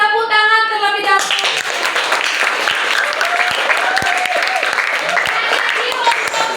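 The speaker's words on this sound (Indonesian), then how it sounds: "Coba tepuk tangan terlebih dahulu." A classroom of students clapping their hands together, dense and steady applause lasting several seconds with a voice talking over the start.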